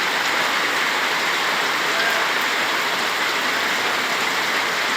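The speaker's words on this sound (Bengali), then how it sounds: "আজকে অনেক দিন ধরে রংপুরের বৃষ্টি থামছেই না" Heavy rain in Rangpur, Bangladesh, falls in a dense, unbroken hiss, loud and close, as if drumming on nearby surfaces, steady for the whole stretch with no voices.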